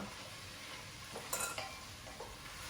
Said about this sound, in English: So I've strained those. I'm gonna add those to the sofrito.